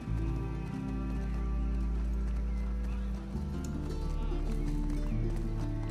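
A horse gallops in The Last of Us Part II with fast, rhythmic hoofbeats that stay loud and close, backed by a low droning game soundscape.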